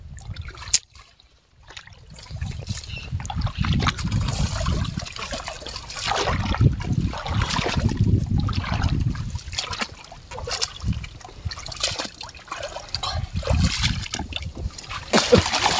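Water poured and splashing near rocks at a riverside landslide spot while fishing, a steady trickling and splattering wash running nearly throughout with a brief quiet gap early on.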